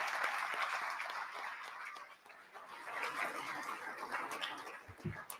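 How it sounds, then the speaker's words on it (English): A crowd at a talks event claps and cheers in sustained applause, a dense, steady wash of hand claps that dips briefly then swells again. "One more round of applause for them for taking the time for that."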